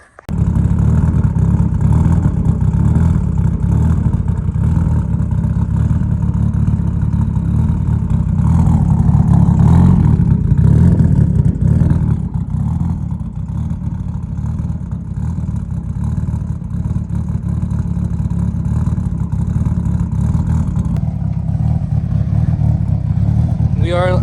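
A 1000hp project car's engine runs steadily and loudly while the car is unloaded on a cold day, a deep droning rumble with slight rises in revs, held throughout, with people talking over it.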